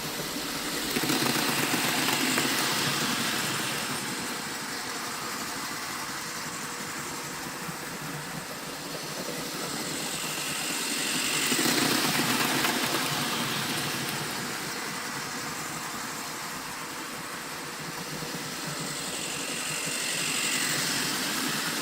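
Several Thomas & Friends model trains run laps on a toy track, giving a steady mechanical whir and rumble that swells and fades as they pass, with no voices.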